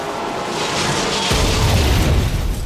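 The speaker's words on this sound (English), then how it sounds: "Not much of an explosion though from that." An explosion in the video game Metal Gear Rising, a broad rumbling boom that swells midway and fills the rest of the moment with low roaring noise, with no talk over it.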